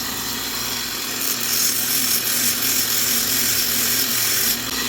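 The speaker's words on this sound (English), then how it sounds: "Pretty soon we're going to break over that top and be sanding the whole thing." Micarta knife handle scales are sanded on a power tool as they are contoured, making a loud, steady abrasive hiss with slight surges in pressure and no voices.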